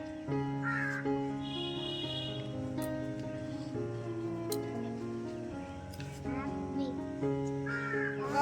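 Several crows caw in harsh, repeated calls close by, layered over a steady busy outdoor background with no clear talk.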